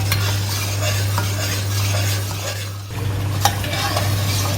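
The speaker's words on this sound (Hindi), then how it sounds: "अब इसको अच्छी तरह भून लेंगे" Mutton korma masala fries in about a cup of ghee under constant stirring, a dense close sizzle with scraping strokes over a steady low hum.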